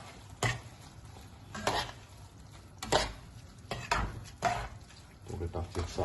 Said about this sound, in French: Donc maintenant, je vais y mettre mes concassés de tomates. Je vais bien mélanger.